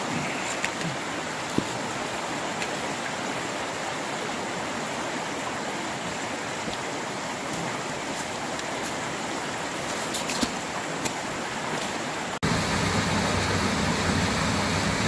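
Waterfall on the East Fork stream along a mountain trail: constant, full rushing water roars nearby with no pauses, growing slightly louder and heavier near the end.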